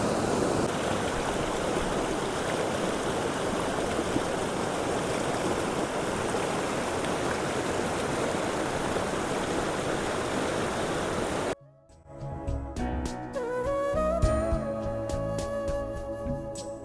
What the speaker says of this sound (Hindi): ऊपर पे तो नहीं है इतना पानी, लेकिन नीचे नीचे बहुत पानी है, और आवाज़ सुनो कितनी ज़्यादा आ रही है